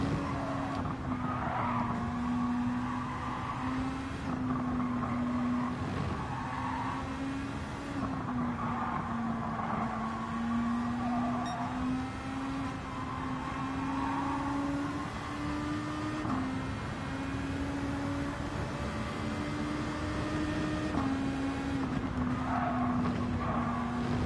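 A race car laps Suzuka in a racing game, engine droning steadily and close with a rising and falling pitch through gear changes and corners, plus light tire squeal, running continuously throughout.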